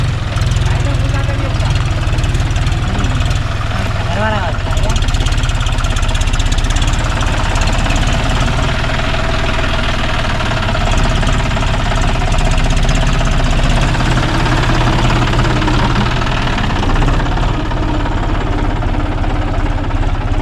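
A tractor engine runs loud and close in a village setting, a continuous rough, knocking drone with steady low rumble throughout, with voices partly buried beneath it.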